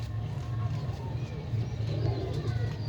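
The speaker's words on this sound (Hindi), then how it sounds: "तो गर्मी में उड़ने वाले कबूतर हैं ये" Summer-flying pigeons in a loft coo in low, soft, repeated pulses, close and continuous over a faint background hum, with no clear talk over them.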